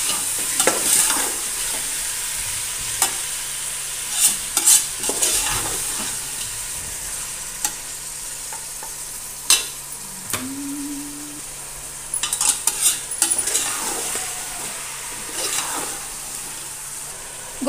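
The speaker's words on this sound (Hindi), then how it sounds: "गोश्त को भी हम 4 से 5 मिनट तक फ्राई करेंगे अच्छे से।" Meat (gosht) fries and is stirred in a pan for a cauliflower-and-meat curry, a constant close sizzle broken by repeated scraping stirs and occasional clinks of the utensil.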